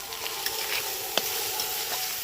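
A beetroot mixture seasoned with a little chilli powder fries in a pan for vegetable chops, a close, even sizzle broken by light scraping ticks as it is stirred.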